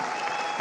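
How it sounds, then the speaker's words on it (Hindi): Loud, dense applause greets factory marketing staff called up on stage at a company event in Thailand, a brief steady burst of many hands clapping. "इनके लिए जोरदार तालियां दोस्तों"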